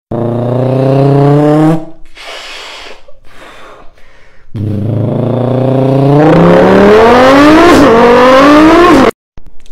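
A voice imitates a Subaru turning into a Lamborghini mid-drive, with a loud buzzing engine drone that breaks off, a few breathy mouth noises, then a rising, revving high-pitched engine wail that stops abruptly.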